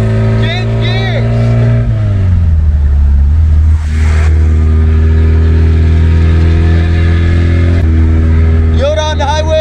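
A classic Toyota truck engine drones loud and close, its pitch dropping and climbing as the driver shifts gears on the road, with a voice speaking over the start and end.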